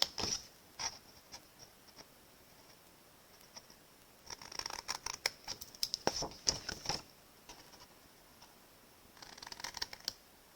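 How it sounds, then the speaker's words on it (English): Small paper snips cut triangle shapes out of the centers of cardstock pieces in a paper-crafting session, giving quiet, crisp clusters of snipping clicks in short bursts separated by pauses. "going to take my trusty little paper snips, and where there's these little triangle shapes on the centers, I'm just going to cut these out"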